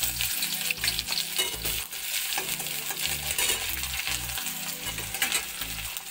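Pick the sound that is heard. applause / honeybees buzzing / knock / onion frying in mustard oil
onion frying in mustard oil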